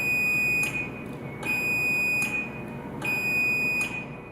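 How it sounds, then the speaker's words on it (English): A Chamberlain RJO101 wall-mount garage door opener beeps five slow times in a steady rhythm, each beep a bright, sharp tone against a quiet indoor hum. "The opener beeps and lights flash slowly 5 times."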